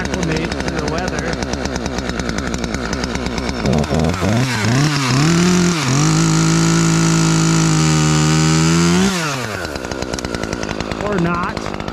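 A small engine idles at close range in cold weather, its tone rising and dipping through a few revs before settling into a steady, loud drone that then drops away.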